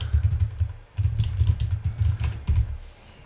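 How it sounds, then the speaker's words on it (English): Typing on a computer keyboard, a close, steady patter of keystrokes in quick bursts with brief pauses between them. "we just type in what we did"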